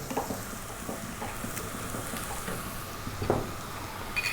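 Four beaten eggs hit a hot pan in which spicy fried potatoes are cooking, giving a steady low sizzle and frying hiss with a few faint clinks of stirring.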